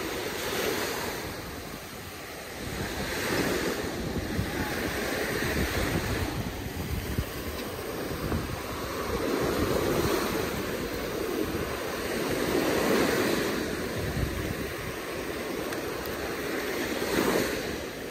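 Ocean surf breaks on a Florida beach in a continuous, rolling wash that swells and recedes every few seconds, with some wind buffeting the microphone.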